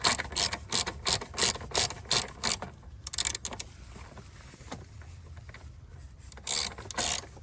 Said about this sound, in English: I got this long extension, and I'm just gonna remove this bolt, this bracket, so we can get the battery out.